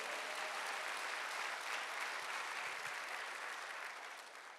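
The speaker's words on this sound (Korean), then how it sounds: "하나님께 영광의 박수." A church congregation claps in praise during a Korean Sunday worship service, a loud, dense, continuous round of applause that holds steady before easing slightly at the end.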